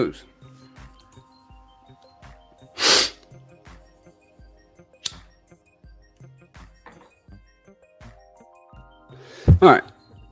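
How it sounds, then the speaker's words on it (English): A person blowing their nose, two sharp forceful honking bursts, one early and a doubled one near the end, close to the microphone against a quiet background with faint rhythmic thumps. "Gotta fucking blow my nose."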